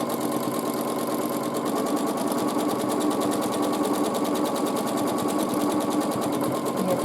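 A sewing machine winds a bobbin during quilting work, running as a steady, continuous motorized whir with a fast repetitive rhythm, close and alone throughout.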